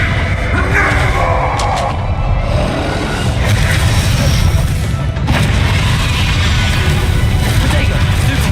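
Booming, crashing blasts from explosive spells cast in Hogwarts Legacy, with rumbling impacts and debris clatter repeating through a chaotic fight, loud and dense throughout.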